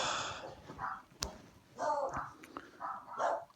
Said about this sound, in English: It's just my dogs barking.